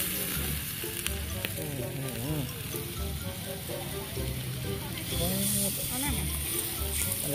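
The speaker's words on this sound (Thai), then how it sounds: "ตอนนี้ไฟร้อนมากเลยเราก็จะเอาเนื้อมาครับใส่กระทะบ้างนะครับ" Meat sizzling on a hot Thai mookata grill pan at a buffet restaurant, a steady loud frying crackle with clattering of utensils, while voices talk over it throughout.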